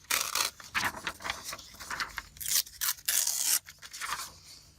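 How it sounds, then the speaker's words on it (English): Music paper is torn off by hand for a junk journal. Several bursts of close, crisp ripping and scratchy rustling come in uneven strokes with short pauses between them. "I love tearing paper."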